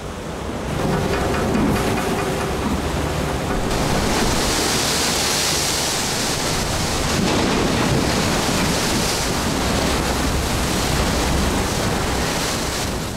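Storm waves at sea batter a barge, a loud continuous roar of surf and wash with surging swells and wind buffeting, no voices.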